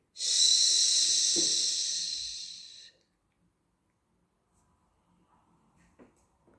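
A long, forceful breath drawn in and held for about three seconds, a loud airy rush, followed by near silence with faint faraway noises.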